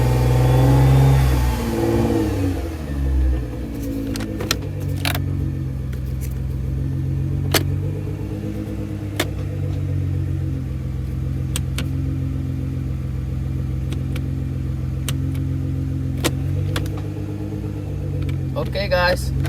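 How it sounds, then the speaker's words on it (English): A car engine runs during a transmission fluid refill after a main valve body installation. A brief rev at the start settles into a steady, close idle hum with scattered clicks over it. "You need to leave the car running."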